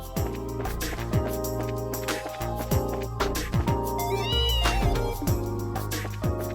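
A cat in the video game Trails in the Sky meows clearly over layered game music and ambient station noise in a bustling port area.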